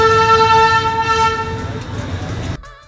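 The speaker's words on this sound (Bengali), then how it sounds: "আর আমাদের ট্রেন কিন্তু ছেড়ে দিল জয় রাইডের জন্য" A Darjeeling diesel toy train starts off on a joyride and blows a loud, sustained horn that fades after about a second and a half, over the rumble of the engine, before the sound cuts off abruptly.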